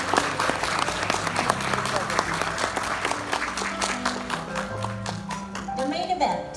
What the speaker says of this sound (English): Let's give one more round of applause for the De Leon children and their families.